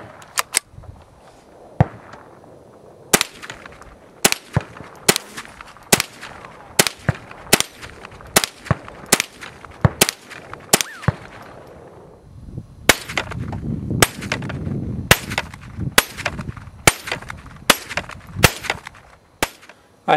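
A .22 rifle fitted with a red dot scope fires at a steel popper target set at 50 yards, giving a long series of sharp, loud reports at an irregular pace, each followed by a faint ring of metal, with no talking.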